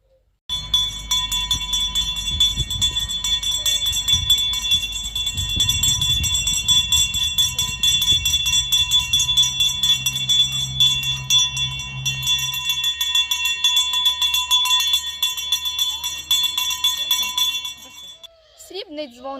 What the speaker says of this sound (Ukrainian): Право дати перший дзвоник надається учениці першого класу Мальцевій Єлизаветі